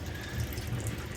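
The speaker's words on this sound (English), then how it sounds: "I'm just gonna let the hot water trickle" Hot water trickling steadily from a kitchen tap into a sink, a soft continuous wash of flowing water, close and fairly quiet throughout.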